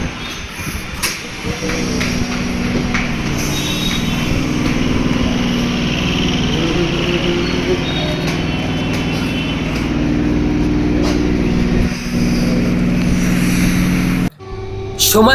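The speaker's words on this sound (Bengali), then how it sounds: "চলে আসলো আমাদের নামখানা লোকাল বারো কোচের" A twelve-coach Namkhana local train pulls into a station, its steady low rumble and engine drone running continuously near and loud, with a brief sharp break near the end.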